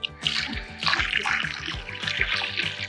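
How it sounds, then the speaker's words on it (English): Old squid bait water poured out of a bucket during a mahi mahi fishing trip off West Palm Beach, a steady close splashing gush that runs continuously for a few seconds, with no voices. "I gotta put some, get rid of this nasty water."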